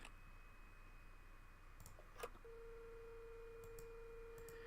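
In the Nancy Drew game Haunting of Castle Malloy, a telephone line gives a few soft clicks and then a steady, faint call tone that holds unbroken over a quiet background hiss.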